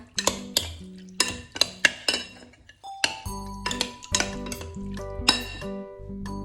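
Clinking and scraping of utensils against a bowl as salmon is tossed and mixed into a spicy salad, irregular bright knocks close to the microphone.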